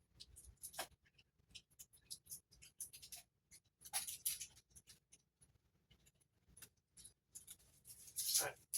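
Stickers being peeled off a Hasbro plasma series 1984 Ghostbusters proton pack toy, a run of short, crisp tearing and crinkling bursts with quiet gaps between them, louder pulls near the start, middle and end.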